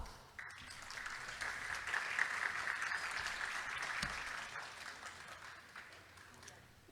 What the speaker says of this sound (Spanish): Demos un fuerte aplauso,